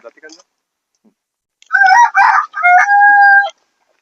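A desi village hen on a farm gives a loud, close rooster-like crow in two sustained, tonal bursts, preceded by a few faint clucks and a short pause of near silence.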